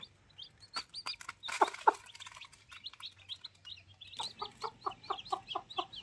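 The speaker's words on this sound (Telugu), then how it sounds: "రాహుల్ బ్రో చెప్పిన విధంగా కోడిని అయితే పొదిగించిన తర్వాత మనకైతే ఒక 8 పిల్లలు అయితే చేశాయి." A hen clucks softly while eight newly hatched chicks peep in quick, high chirps nearby, the peeping growing steady and rhythmic toward the end.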